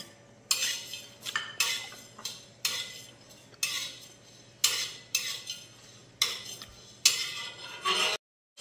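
Whole coriander, cumin, fennel, star anise, cinnamon and cardamom dry roasting in a pan, heard as about a dozen close, rhythmic scraping and rattling strokes separated by short gaps, then silence.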